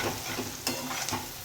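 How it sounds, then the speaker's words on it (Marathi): Bright green chili paste sautés in a pan for pithla, a soft sizzle with a few close scraping stir strokes of a spoon, ending in a sharper clink. "हे छान आता परतून घ्यायचं आहे."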